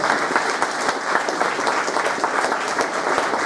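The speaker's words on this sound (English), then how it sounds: "he deserves a massive round of applause" Applause fills a room at a British Touring Car Championship racing team's media day, a sustained wash of many hands clapping, fairly loud and even throughout, with no talk on top.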